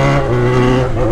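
A Yamaha XJ6 motorcycle engine revs loudly through its exhaust, a close, sustained throaty drone that holds steady and rises slightly, with no voices.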